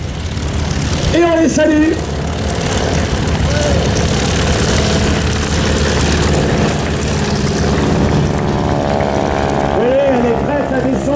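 Breitling wingwalker propeller plane making a pass at an air show, its engine drone loud and steady throughout, with a commentator talking over the public address.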